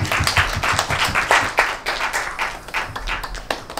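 Audience members at a cinema film event clap for the director, a brisk, steady patter of many hands close by, with no talk over it.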